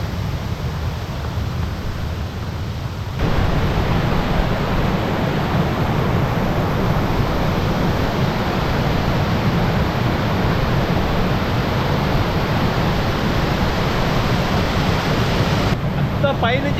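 Muthyala Dhara waterfall in Telangana roars as falling water and spray fill the air with a steady broadband rush, which grows noticeably louder after a few seconds and holds constant. Faint voices may sit beneath it.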